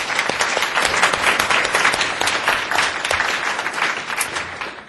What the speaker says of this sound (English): can everyone join me in giving our panelists a round of applause?